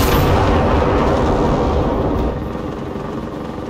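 A nearby explosion in the video game GenZ fills the clip with a loud, heavy rumble that holds steady, then drops to a lower roar partway through, with no speech.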